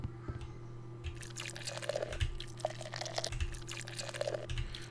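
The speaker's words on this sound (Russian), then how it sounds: "Я пока воду понабираю." Water being collected in the farming and tavern-management game Travellers Rest, a run of small liquid splashes and drips repeating at a steady pace over a humming game background, moderately loud with no talking.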